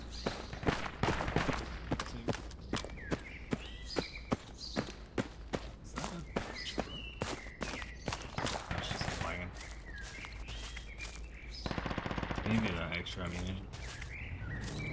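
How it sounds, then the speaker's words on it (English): Rapid bursts of machine-gun fire crack through a Project Reality battle, dense repeated shots close by, thinning out toward the end under a steady background rumble. "Receiving fire from unknown location."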